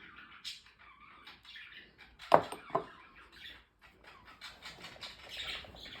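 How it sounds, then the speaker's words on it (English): Pet budgies chatter and squawk faintly in the background of a room, with a scattered run of high chirps and one sharper louder squawk midway and no talking. "Hope you don't mind my budgies. They're squawking in the background over there."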